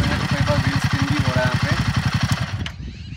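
Himalayan 450 motorcycle in off-road mode thumps with a rapid, pulsing single-cylinder beat close by, wheels spinning on loose ground, then the engine note drops away near the end; a rider talks over it.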